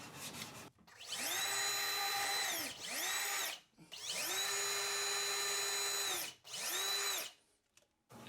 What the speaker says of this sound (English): After drilling the 4 pilot hole locations, you can remove the template and set it aside.